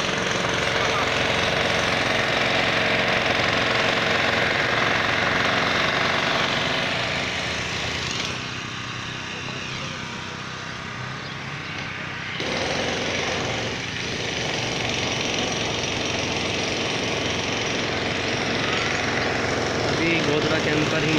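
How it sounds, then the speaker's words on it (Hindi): A drill breaks up houses during demolition along a nala, a loud, continuous rattling and pounding that drops in level for a few seconds midway before resuming at full force. "अभी सिर्फ ड्रिलर से काम चल रहा है"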